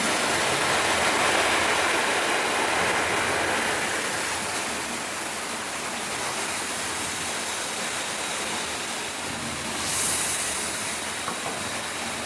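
Water runs while a bowl is rinsed during kofta cooking: a soft, steady rushing hiss that swells and eases, fairly quiet and with no talking.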